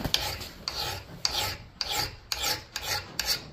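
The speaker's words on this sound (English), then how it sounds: "Don't touch it with a file anymore." A hand file rasps across the bit of a Collins double bit axe in about seven evenly spaced strokes, each a sharp scraping pass with a brief gap, close and fairly loud, with no voices.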